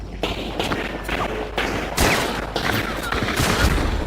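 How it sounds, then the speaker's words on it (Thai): Rapid gunfire in the video game Hunt: Showdown: bursts of shots crack in quick succession, loud and close, with a few sharper blasts among sustained firing. "โอ้โหปืนรัวไม่มีเปิร์กว่ะ"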